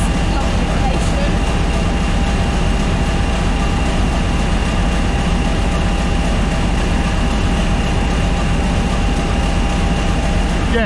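A diesel locomotive at a heritage railway diesel gala on the Great Central Railway gives a loud, steady rumble with a sustained tone throughout, while people talk over it.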